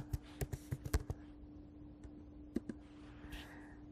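Typing on a computer keyboard while entering text into embroidery design software: a quick burst of sharp, close keystroke clicks, then a pause and a couple more taps, quiet and alone over a low electrical hum.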